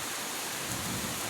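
Heavy rain pours down outside during flooding, a dense, steady roaring hiss that fills the whole moment without a break; nobody speaks.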